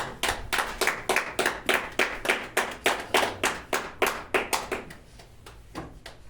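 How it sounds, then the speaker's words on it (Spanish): Church congregation applauding after a sermon: crisp, evenly paced claps close by, loud and regular, tapering off near the end with a few scattered final claps. "Vamos a darle un fuerte aplauso."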